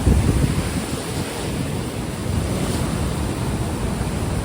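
Ocean surf rolls in at Bheemili beach in Vizag at night, a loud continuous roar of breaking waves mixed with heavy wind buffeting the microphone.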